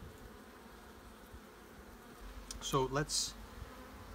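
Honey bees buzz softly around an open hive during an inspection, a faint steady hum with a brief louder burst near the end as a bee passes close, and a voice speaks briefly.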